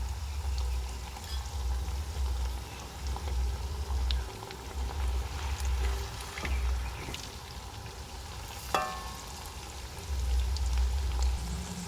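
An egg-stuffed onion snack deep-fries in oil with a continuous bubbling and gurgling, low in level and steady for several seconds, no voices.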